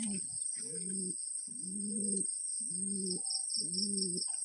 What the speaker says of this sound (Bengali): আরেক জোড়া আমি দেখাচ্ছি, যে লাল লাল সিরাজি কবুতর